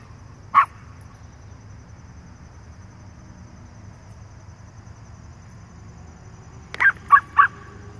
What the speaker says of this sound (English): He barks at every car.